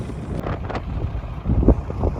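Strong wind buffets the microphone in a steady low roar, with gusts swelling and fading across an open farm field.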